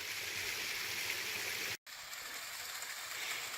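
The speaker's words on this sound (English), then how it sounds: "5th and perhaps the final little waterfall in La Madre Springs Canyon" Water from a small waterfall in La Madre Springs Canyon, a rocky desert canyon in the La Madre Mountain Wilderness, rushes in a steady broadband wash that cuts out for a moment partway through.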